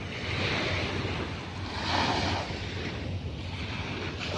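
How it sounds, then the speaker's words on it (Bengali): Big sea waves break and wash onto the shore at an East Coast Park seaside beach, a steady loud roar of surf with a swell near the middle, wind buffeting the microphone throughout. "ঢেউ কত সুন্দর"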